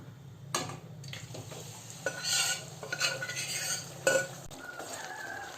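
Mutton for chukka is tipped into a kadai with groundnut oil and stirred, giving a close frying hiss with scrapes and metal pan knocks, no speech.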